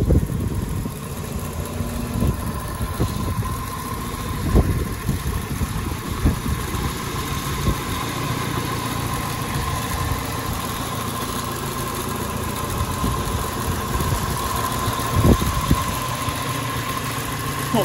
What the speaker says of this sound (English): Not the most spectacular sounding engine at idle, but that's what they are.